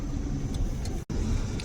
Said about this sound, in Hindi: अंदर से ऊपर से गाड़ी आ रही है